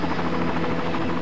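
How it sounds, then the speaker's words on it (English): A Jet Ranger helicopter flies close and loud, its steady, throbbing rotor and engine drone filling the whole short stretch without pause. "Bob directed the helicopter pilot to the field he believed was the UFO's landing site"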